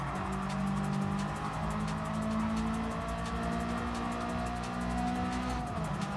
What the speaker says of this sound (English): That exhaust does sound a lot nicer compared to the others.